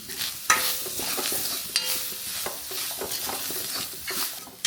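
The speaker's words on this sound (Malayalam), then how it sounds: "ആ നാളികേരം ഇട്ടൊന്ന് വഴറ്റുക" Grated coconut and curry leaves sautéing in a pan, with steady frying sizzle and repeated scraping stirs of a spatula at close range, with no voices.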